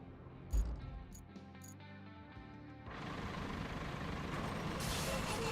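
A loud pneumatic hiss from a truck's air brake in the video game Roadcraft, followed by steady engine rumble and a rising whoosh of released air.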